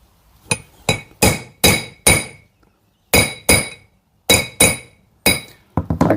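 Sharp metallic taps as a metal part is hammered home into an HQ Holden 1 Tonner chassis during a rebuild, ringing clinks in quick groups of three to five with short pauses, close and clear.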